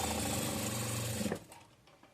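A sewing machine stitches a blouse seam, a close steady whirring run that stops abruptly after about a second, leaving faint handling noise.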